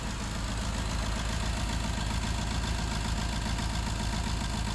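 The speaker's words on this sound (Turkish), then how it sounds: "Aracımız tekleyerek çalışıyor." A Fiat Fiorino with faulty injectors idles with engine shaking and misfiring, a steady, close, low mechanical rumble that holds at an even level throughout.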